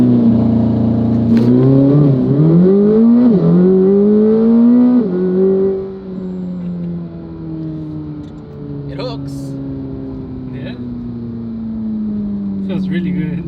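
A Corvette ZR1 launching from a brake release: a loud, close engine roar climbing in pitch through quick gear shifts, then settling into a steady high drone as it pulls on.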